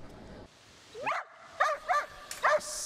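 A fire brigade search dog at a rescue centre open day barks four times in quick yips and whimpering barks, close and fairly clear, after a brief quiet start.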